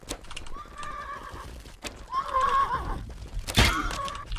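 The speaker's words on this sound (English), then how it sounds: "Okay, both horses are hurting." Horses in a video game siege neigh and whinny repeatedly, with hoof clip-clops and a sharp impact crack near the end, fairly close and loud.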